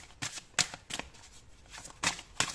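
Oracle cards shuffled by hand at close range, a series of quick papery riffles and slaps in an irregular rhythm, with no talking over them.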